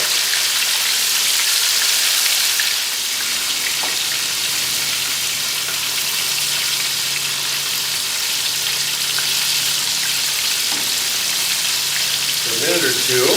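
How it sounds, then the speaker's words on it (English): Spicy chicken strips deep-frying in hot oil, a loud, steady, dense sizzle heard close up throughout, with a voice speaking faintly near the end. "We're going to cook this chicken in 2 batches."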